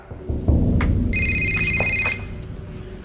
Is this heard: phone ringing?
yes